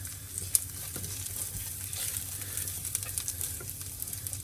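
Chili powder being mixed into an aloo gobi cauliflower curry in a pan, a soft steady sizzle with light scraping stirs and one sharp tap, close and quiet, no talking.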